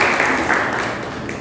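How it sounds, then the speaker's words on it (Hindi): A quick round of audience clapping at a road safety quiz competition, a dense, fairly loud patter that fades slightly over its brief span. "बिल्कुल सही आंसर है, जोरदार तालियों से इसका।"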